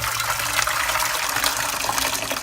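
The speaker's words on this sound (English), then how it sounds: "Just pop in enough water." Water pours into a pot of rice with peri-peri sauce, a loud, close, continuous splashing gush from a tap lasting a couple of seconds, with no voices.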